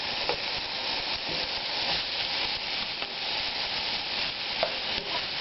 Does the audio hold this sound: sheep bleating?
no